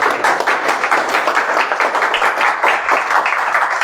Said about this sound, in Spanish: Entonces un fuerte aplauso para los bomberos.